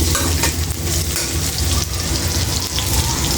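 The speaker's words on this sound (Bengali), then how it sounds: "হালকা করে ভেজে নেব।" Cut potatoes with salt are lightly fried in a pan for a bean-seed curry, giving a loud, steady sizzle and crackle of hot oil close up, with no speech.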